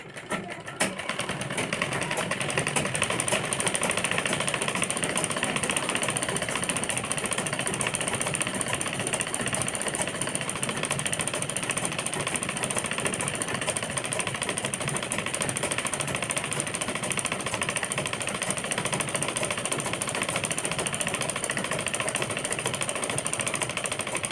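A sewing machine stitches a double-frill, umbrella-cut top, keeping up a dense, continuous rattling hum up close for the whole stretch with no pauses.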